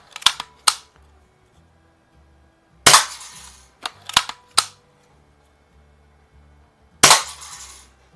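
Daisy 102 Model 36 BB gun being fired, sharp close snapping shots in irregular clusters, some in quick pairs, separated by short gaps of near silence with faint handling noise.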